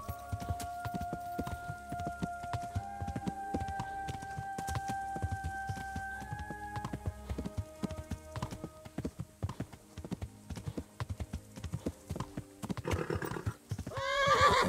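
Horse hooves trotting steadily in the medieval game Kingdom Come Deliverance, a continuous clip-clop rhythm close by under soft background music, ending with a loud whinny and snort.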